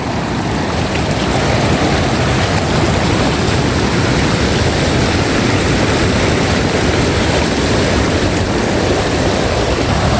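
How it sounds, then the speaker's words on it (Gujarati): Loud, continuous roar of water rushing at a dam, broad and steady like a torrent pouring through, with no voices. "જો કેવું પાણીનો અવાજ આવે આ ડેમ છે"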